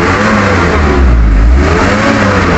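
A Mazda Bongo SK22 van's diesel R2 engine, which has delayed acceleration response, revs up loudly and close, its pitch rising and falling through a couple of throttle swells, with no voices.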